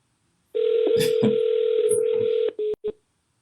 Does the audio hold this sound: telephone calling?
yes